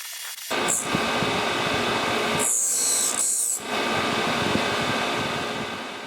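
A Grizzly 5963 surface grinder makes a pass on steel: a loud, steady motor roar and grinding hiss, broken by two bursts of high, shrieking wheel contact partway through, with no talking.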